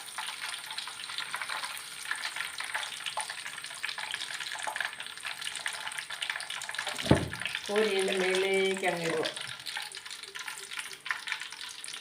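Food frying in a pan gives a steady, fairly quiet sizzling hiss throughout, with someone briefly speaking over it partway through.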